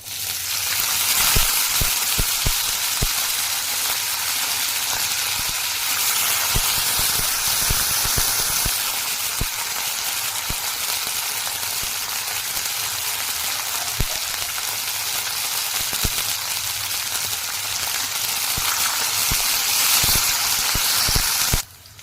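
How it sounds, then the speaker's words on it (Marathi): Cauliflower frying in oil in a pan with cumin, bay leaf and a cinnamon piece, giving a loud, steady sizzle and hiss with scattered pops and crackles throughout and no talking. "फ्लावर लाल होईपर्यंत आपल्याला परतायचा आहे"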